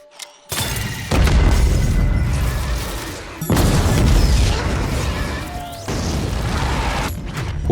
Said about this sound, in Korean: 폭발은 모든 걸 집어삼켰고